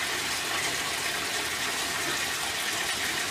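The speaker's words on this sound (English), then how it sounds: "as the bathtub is filling up" Loud, steady gush of tap water pouring into a filling bathtub, a continuous close rushing roar with no talking.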